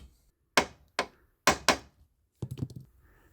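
A hammer taps a bolt home into timber: four sharp knocks in quick succession, then a cluster of lighter, rattling taps, close and clear with no talking.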